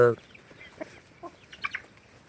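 A few short clucks from free-range village hens come in quick succession after a brief opening sound, moderately close in a quiet poultry farm yard.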